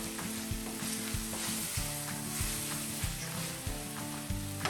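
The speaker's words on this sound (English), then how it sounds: "I added that queso to the mix, and we're gonna mix it all up" Ground bison and queso sizzling in a pan while being stirred, a constant frying hiss over a rhythmic low scrape-and-tap of the utensil, close with no speech.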